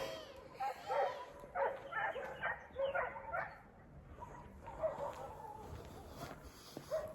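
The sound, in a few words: dogs barking and fighting in the background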